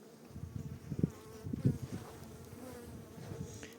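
A low, steady buzz of Caucasian F1 honeybees hums close by, with a few louder swells as bees pass near, and no voices.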